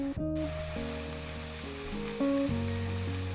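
Chicken tikka pieces sizzle in a pan over a gas flame, a continuous close frying hiss that runs through the whole stretch beneath a steady melodic tone, with no voices.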